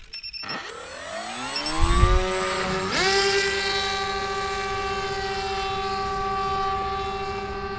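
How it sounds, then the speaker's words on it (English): An FT Spear RC plane's electric motor spools up for an automatic launch, its whine rising sharply in two steps, then holding a loud, steady high-pitched drone. "Auto launch, raise the throttle."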